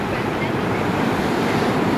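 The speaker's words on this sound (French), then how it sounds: "Mais la plage est sympa, les vagues sont énormes." Large waves crash onto the pebble beach at Praia Formosa, a dense continuous roar of surf with wind noise on the microphone, loud and close, no break through the short stretch.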